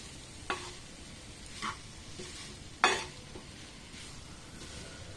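Gooseberry pickle stirred in sizzling oil in a pan, with a soft continuous fry under several distinct scraping strokes of a spoon, the loudest near the middle.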